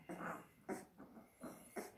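An Iberian mastiff puppy about two and a half weeks old whimpers in a run of five short, soft whines spaced evenly with breathy pauses between them, close by and quiet, with no voices.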